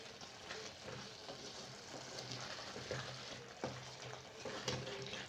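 Garlic frying in a pan for a pasta bake, a steady close sizzle with occasional stirring scrapes and small crackles throughout, no talking.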